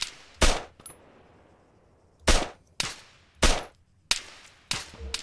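Gunfire in the video game Arma 3: five or six sharp, loud single shots in an irregular rhythm, each with a short echoing tail, heard alone with no talk.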